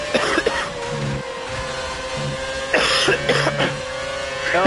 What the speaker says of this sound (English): I've got a little bit of a cold, so if I just go into a coughing fit